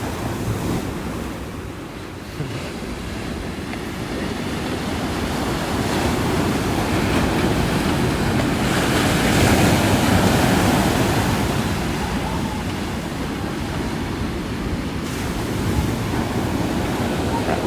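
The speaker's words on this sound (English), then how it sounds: "We've got some serious waves coming out here, which is so cool." Ocean surf rolling onto the California coast, a steady broad roar of breaking waves with wind buffeting the microphone, swelling slightly midway and continuing without pause.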